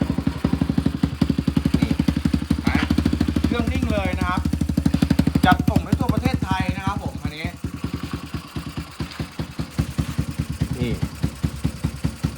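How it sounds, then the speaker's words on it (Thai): A used dirt bike with an aluminium swingarm and aftermarket exhaust is kick-started and runs, its single-cylinder engine chugging in a loud, rapid, uneven idle close by, with someone talking over it partway through. "เอามาลองฟังเสียงเครื่องกันก่อน นะครับ สตาร์ทเท้าก่อนเบื้องต้นนะครับ"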